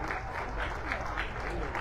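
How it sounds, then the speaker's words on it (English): Steady applause from the crowd at the 2025 Windsor Dog Show during the Toy Group judging: a continuous, even wash of clapping that is fairly soft and distant and lasts the whole moment. "Blue shot 3 is getting a good round of applause."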